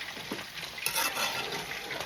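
A covered pot of rice and peas boils on a stove with a close, continuous bubbling hiss and soft crackles. No one speaks.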